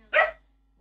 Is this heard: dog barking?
yes